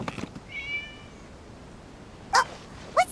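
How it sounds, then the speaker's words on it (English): A cat meows in a Genshin Impact game scene, a short, thin mewing call followed by two brief louder meows near the end, heard alone against quiet background. "It was just a cat."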